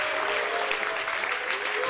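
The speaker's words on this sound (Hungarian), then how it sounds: "Adjunk az Úrnak egy nagy, nagy, nagy, nagy tapsot" A church congregation claps together in praise, a sustained, even burst of many hands at moderate distance, with faint musical tones held underneath.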